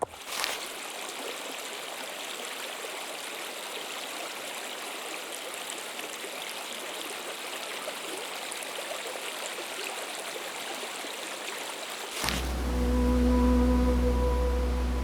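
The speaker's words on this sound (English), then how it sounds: "little river plunge" A river stream flowing steadily before a cold plunge, a continuous rushing wash of water close by, then a sharp bump gives way to a lower, muffled rumble near the end.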